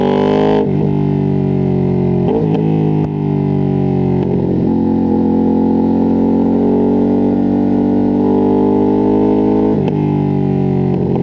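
A Ducati Streetfighter V2S twin-cylinder motorcycle engine revs loudly and close, its steady drone broken by several sharp throttle blips and rising sweeps, with no talk over it.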